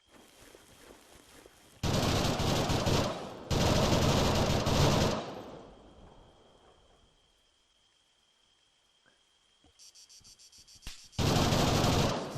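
Gunfire in an Arma 3 Battle Royale match: two long bursts of loud automatic fire, then a quieter lull with a steady high whine and faint distant pops, ending in more close, heavy bursts.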